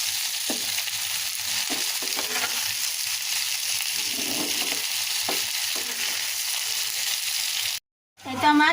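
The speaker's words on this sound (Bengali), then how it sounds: "এখন আস্তে গেলে এটাকে ফ্রাই করে নেব।" Bean and potato bhaji frying in a pan with onion, a steady close sizzle broken by occasional spatula scrapes and stirs, ending in a brief cut and a louder burst of sizzling.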